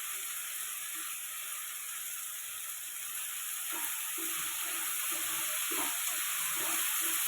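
Onions sautéing in a frying pan make a steady close hiss and crackle of frying throughout, with faint clatter in the background and no talk.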